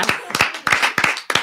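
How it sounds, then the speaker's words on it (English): Board members at a meeting clap after a motion is carried, a few loose, close bursts of hand claps in an uneven rhythm, with voices mixed in. "I think we deserve a clap, all of us."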